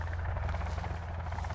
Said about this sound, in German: Der Helikopter, denke ich mal.